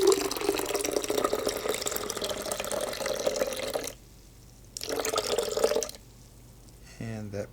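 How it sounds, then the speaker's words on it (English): Water poured from a tap to rinse out an oatmeal container, splashing steadily and hollowly, then stopping, pouring again for about a second, and stopping once more, with a brief tonal clunk at the end. "we're going to add more water to help in rinsing this out"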